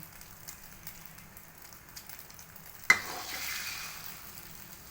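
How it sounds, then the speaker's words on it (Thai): Beaten eggs hit hot oil for a home-style omelette, bursting into a loud sudden sizzle after a quiet start with faint clatter, then settling into a steady frying hiss up close. "จียวไข่แบบบ้านๆนะคะทุกคน"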